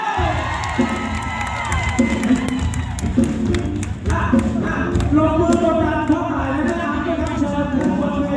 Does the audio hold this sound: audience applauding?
yes